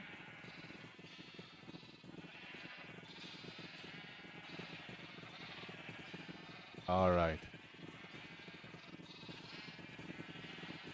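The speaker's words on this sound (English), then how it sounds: "Got all the sheep going." Minecraft sheep give one loud bleat midway through, set against a steady background hum while someone talks.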